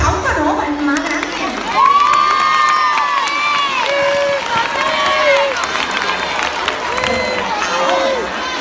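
Primary-school children at a charity campaign event cheer and shout loudly together with scattered applause, while an adult voice speaks over the crowd noise.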